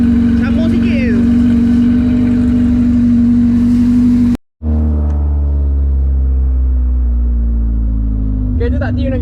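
A car engine fitted with a 4-2-1 extractor exhaust, not yet tuned, idling with a loud, steady low drone and hum, briefly cut off midway, with voices chatting over it.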